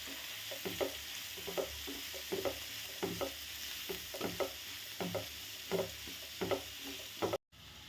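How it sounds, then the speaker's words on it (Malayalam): Shallots and onion sizzle and stir in a pan for a Kerala-style prawn roast, with steady frying hiss and regular scraping strokes of a spoon, close and moderately loud, no voices. "സവാളയൊക്കെ നല്ലപോലെ ഒന്ന് വഴറ്റി വരണം"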